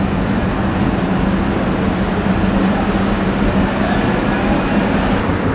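Kanchan Commuter train, a four-coach passenger train, rumbles continuously at a steady loud level, a dense low mechanical roar with no breaks or voices.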